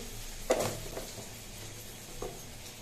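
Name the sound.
spices tempering in hot oil while cooking spinach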